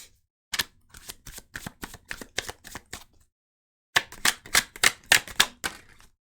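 Tarot cards are shuffled and drawn in two quick bursts of crisp, rapid riffling clicks with a short silent pause between them. The sound is close and dry, with no voices.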